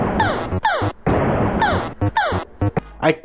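Arcade shooting effects from the Asteroids video game: repeated bursts of crunchy noise with descending electronic pew sweeps, fired in quick rhythmic volleys that are loud and close.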